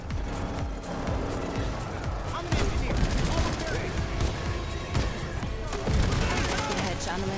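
Rapid gunfire in the Rimworld video game, overlapping volleys of shots crackling continuously with sharper bursts standing out every second or two.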